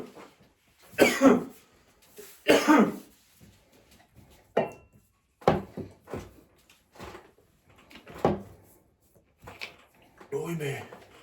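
A person coughs repeatedly in separate harsh bursts with quiet gaps between them. Some bursts sound like throat clearing, and the later ones are softer and more drawn out.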